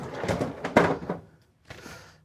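A drawer on a black stainless refrigerator slides open and shut with a rolling scrape, a firm thud, a pause, then a second softer slide, all close and fairly loud.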